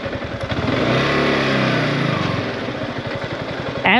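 Yamaha R15 V4 motorcycle engine running steadily nearby with a pulsing, throbbing note and a slight rise in pitch midway, loud and continuous throughout, ending with a brief burst of higher noise.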